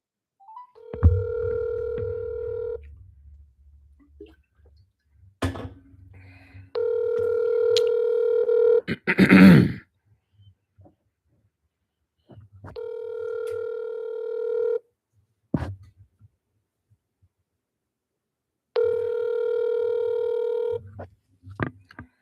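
Outgoing telephone call with repeated ringback tones: four steady tone bursts of about two seconds each, separated by silence, with a brief clatter between the second and third; no talk during the rings.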